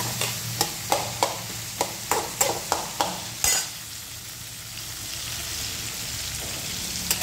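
Mixed bhaji vegetables sauté in hot oil, giving a steady sizzle with a run of sharp, evenly spaced stirring clacks from a spoon against the pan, then continuous frying alone.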